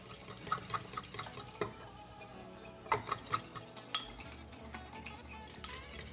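Orange chicken sauce of brown sugar and soy sauce mixed in a bowl, heard as quick rhythmic clinks and taps of a utensil against the sides, close and fairly quiet, with no talking.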